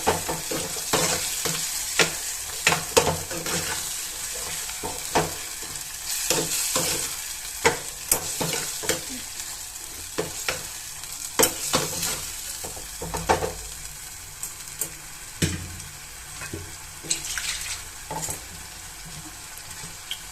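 Fried eggplant being stirred into sizzling masala for a Tamil-style eggplant curry, steady frying hiss broken by repeated scraping and clattering of a spoon against the pan, close up with no talk.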